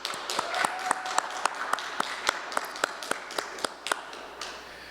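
A small audience applauds at a college lecture, a thin, even patter of hands with a few sharp, distinct claps standing out, fairly distant and modest in volume.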